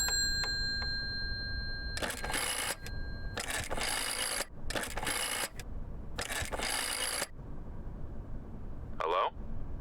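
A phone rings in the Layers of Fear remake horror game: several loud, harsh electronic ring bursts in an irregular pattern, then a brief chirp after a pause, under a steady low hum.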